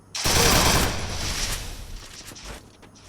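Gunfire in a shooter video game match, a sudden loud burst of rapid automatic shots that tails off into a fading rattle and noise.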